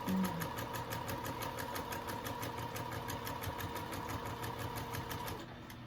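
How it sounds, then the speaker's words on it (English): A sewing machine hums and stitches steadily through fabric with a fast, even mechanical rhythm, then stops abruptly near the end. "Your sewing machine should be able to sew through a pin"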